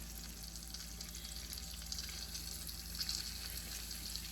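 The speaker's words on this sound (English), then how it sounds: "There's that sizzle that I'm looking for." Steady, close sizzling of pork chops frying in a hot frying pan, a continuous crackling hiss with no talking.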